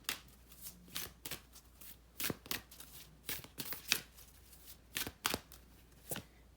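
A deck of oracle cards is shuffled close up in quick repeated riffles and slaps, a soft papery rhythm of about a dozen bursts in a quiet room.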